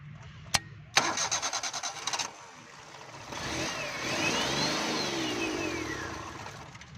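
A Suzuki Cultus that struggles to accelerate is cranked with the self starter in a quick rhythmic burst after a sharp click, then fires and revs up and down steadily, close up and without talk.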